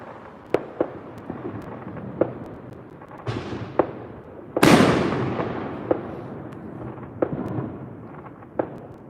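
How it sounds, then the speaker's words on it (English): July 4th fireworks pop and crack in scattered bursts, some sharp and close, with one big booming blast midway that rumbles and fades, more distant pops continuing after. "people who are kind of like behind my house who are also doing their own fireworks"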